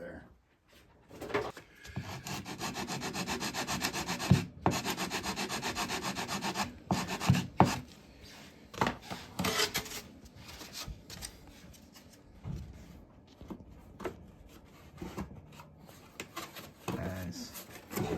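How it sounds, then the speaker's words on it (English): Wood is being sanded by hand during a guitar build, with steady scraping rubs and strokes of uneven strength, mostly close and moderately quiet, broken by brief pauses. "I'm going to sand that because I can tell it's going to want to go"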